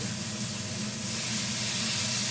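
Food browning in a hot pan gives off a steady, even sizzle and hiss that holds at a constant level without pause, with no voices over it.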